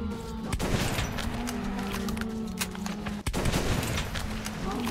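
Shotgun blasts in the video game Metro 2033 Redux, sharp broadband shots cutting through a dense, continuous din of game sound, with one especially abrupt blast near the end.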